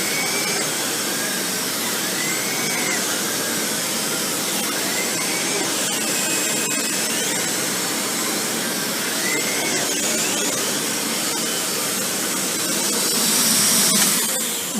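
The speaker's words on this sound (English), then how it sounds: "We're going to turn the machine on and see just how the brush roll does." Dyson Cinetic Big Ball Animal vacuum cleaner running with its brush roll spinning, a loud, steady whooshing whine that holds constant for the whole stretch and swells slightly near the end, with no speech.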